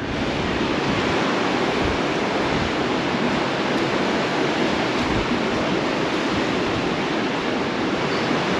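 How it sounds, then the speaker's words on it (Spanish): Sea waves at a Cancún beach wash in as a steady, loud, broad roar of surf with no breaks, heard alone without any talking. "qué relajante despertar y escuchar el sonido del mar."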